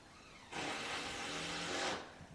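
A power drill whirs in the distance, a single burst of about one and a half seconds that starts and stops abruptly.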